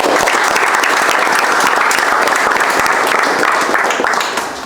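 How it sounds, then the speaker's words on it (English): Loud, dense applause from a team gathering for a football club's match analyst, with the clapping continuous and close throughout before fading slightly at the end. "you deserve a big round of applause."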